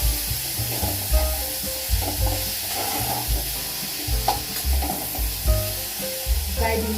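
A spoon stirs bitter gourd curry with two added tomatoes in a pan, steady sizzling under repeated scraping strokes, loud and near, with a low tonal backing throughout.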